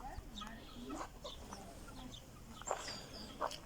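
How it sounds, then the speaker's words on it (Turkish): Soft clucking from chickens and a large rooster nearby in a village, short scattered calls over quiet outdoor background, with a couple of sharper squawks toward the end. "Bu da büyük horozu bir."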